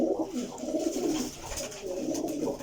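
Soft, throaty cooing from a Parwazi flying pigeon at a breeder's loft in Jhelum rolls in low, repeated pulses, quiet and steady above a faint hiss.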